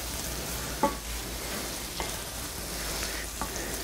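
Beef snouts fry in a pan under a steady, even sizzle, with a few light scrapes and taps from stirring at intervals.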